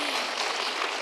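An audience claps at a festival talk, a dense steady patter of many hands that continues unbroken through the stretch with no speech over it.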